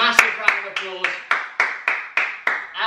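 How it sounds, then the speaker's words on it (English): A big round of applause right after a barbell workout session, heard as a steady run of rhythmic claps with a few voice-like tones at the start, fairly close and clear. "Massive round of applause."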